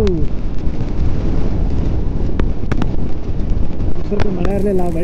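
Gusting wind with rain begins on a Ladakh road trip, a dense continuous roar of wind buffeting the microphone, with brief knocks and a faint voice or engine tone near the end.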